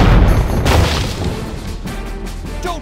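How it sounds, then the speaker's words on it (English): A video-game bombardment opens with a heavy booming blast, then rumbling debris and scattered crashes that fade, with further impacts and a sharp crackle toward the end. "Systems online. Commencing bombardment."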